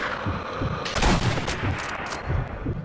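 Gunfire from a sniper rifle in the World War II shooter Sniper Elite V2, with a loud burst of shots near the middle over continuous game noise and rumbling.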